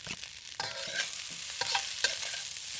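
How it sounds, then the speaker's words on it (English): Egg, ham and peas stir-fried into turmeric fried rice, bright continuous sizzling broken by several scraping stirs and taps of a spatula in the pan. "I'm going to put all the egg, ham, and peas in it again."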